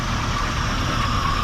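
Steady low rumble of a 1977 Chevrolet Impala four-door's engine running at idle, close and constant with no talk.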